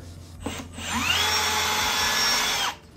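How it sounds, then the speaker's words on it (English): A power drill whirs steadily for about two seconds after a couple of short bursts, close and loud, then stops abruptly, removing screws from a carbon fiber intake on an Audi C8 RS6. "I am using a power tool to get them out."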